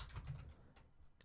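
Soft, quick keystrokes on a computer keyboard as a username is typed, a short burst of faint clicks heard close up and alone.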